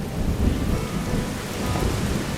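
Heavy rain pours steadily during a storm while deep thunder rumbles underneath, a dense, continuous wash of sound with no voices.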